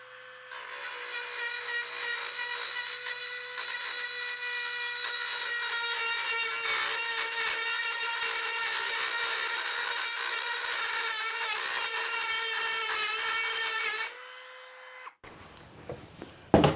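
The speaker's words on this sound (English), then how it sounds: "I will now use the Dremel with the teardrop grinder to clean the area I wish to weld" A Dremel rotary tool with a teardrop grinder bit cleaning a metal surface before welding, a sustained high whine with grinding rasp for about fourteen seconds, then it winds down and stops.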